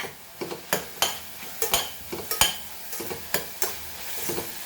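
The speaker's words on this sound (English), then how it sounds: "Fry it till the rawness goes of the garlic." Garlic and onion sizzle in a pan close by while a utensil scrapes and knocks against the metal in a quick, irregular stirring rhythm, with no talking.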